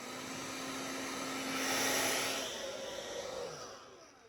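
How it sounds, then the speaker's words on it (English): A handheld blow dryer dries a damp plush Beanie Boo toy with a close, steady whooshing hum. The hum swells briefly, then tapers off. "Now time for the blow dryer."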